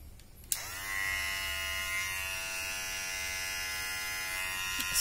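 WMARK NG-115 electric hair clipper switched on with a click, then a steady, smooth high-pitched motor buzz held close up for several seconds, alone without talk.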